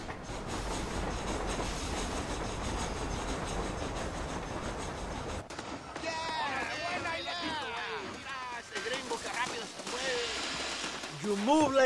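Train rolling on rails in Red Dead Redemption, a steady rumbling clatter through the first half that fades behind game music and voices later on.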